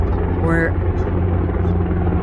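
A helicopter flies overhead outdoors, a steady low rotor thrum droning continuously beneath a person speaking nearby.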